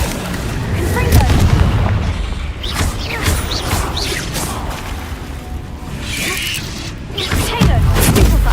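The Confringo spell explosion in Hogwarts Legacy, a heavy booming blast with crashing debris and whooshing magic amid layered combat noise, with speech mixed in.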